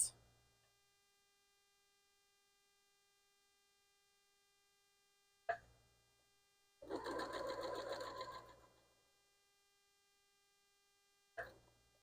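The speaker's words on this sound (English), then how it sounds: "we're going to go to the sewing machine, and we're going to sew this into place" A sewing machine stitches fabric and paper for paper-pieced quilting in one short burst of about a second and a half, framed by faint clicks and a low hum in near silence.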